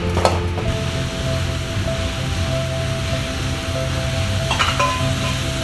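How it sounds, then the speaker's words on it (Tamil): Onions, tomatoes and garlic sauté in oil for a dried fish curry, making a steady, fairly loud sizzling hiss with occasional clinks of the pan, and no one speaking. "லைட்டாக எண்ணெய் விட்டு வதங்க விடுங்க."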